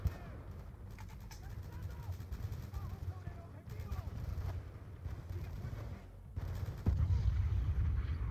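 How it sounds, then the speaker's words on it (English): Mortar fire and explosions in the Black Ops 2 video game, a steady rumble of distant booms and gunfire that swells near the end, with indistinct game voices mixed in. "throw a couple mortars in there for good measure, and try to get one in where that machine gun nest is"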